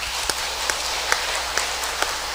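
A church congregation applauding during a Sunday service to encourage the Sunday school, a dense, even wash of clapping that holds steady throughout with a few louder claps popping out.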